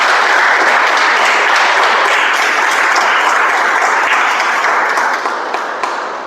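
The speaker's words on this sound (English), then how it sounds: "Can we have another round of applause for our speaker once again?" An audience applauds a speaker at a speech meeting with dense, sustained clapping that stays full and loud before tapering off slightly at the end.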